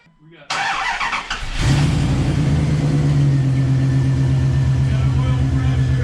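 A 1998 Dodge Dakota winter-beater pickup with a modified exhaust cranks briefly and catches, then settles into a loud, steady, throbbing idle close by.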